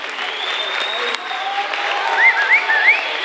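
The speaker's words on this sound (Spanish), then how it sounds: "Un aplauso fuerte para ellos." Applause and cheering from a crowd at a secondary school Halloween party and contest for a fourth-year ESO class group with a Beetlejuice theme, steady and moderately loud, with a few whistles and voices rising through it.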